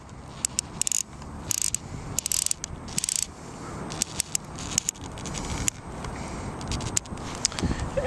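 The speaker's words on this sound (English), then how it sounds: "Advance the film to the next frame." Film being advanced on a Diana+ plastic film camera, a run of dry ratcheting clicks and scrapes with several louder sharp snaps, close up and alone.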